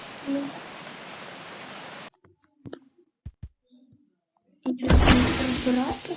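Rain in a video game, a steady broadband hiss that cuts out abruptly partway through, leaving a few sparse clicks and taps, then returns loudly for the final second and a half.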